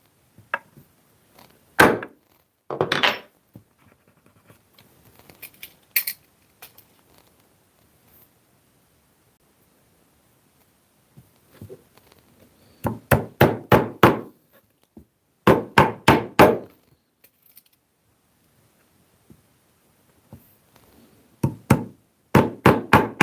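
Brass pins are tapped into a leather trunk with a small nylon mallet in quick bursts of sharp knocks, three to five blows each, separated by quiet gaps, close and distinct.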